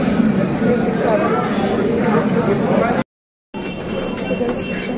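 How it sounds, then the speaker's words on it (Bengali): Commuter train pulling into a busy station platform, a continuous loud rumbling roar with crowd babble and talking over it, briefly cut to silence before resuming. "এখন ট্রেন ঢুকে গেছে"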